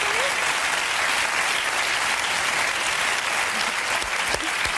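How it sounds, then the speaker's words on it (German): Dense, steady applause from a TV studio audience, the clapping a continuous wash at constant loudness from start to finish with a couple of faint voices underneath. "das ist mein Applaus"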